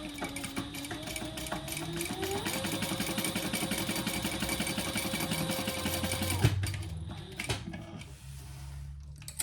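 A sewing machine stitches a vertical line on a crossbody bag, humming steadily with a rapid mechanical rhythm for most of the stretch before slowing and trailing off into quieter handling noise.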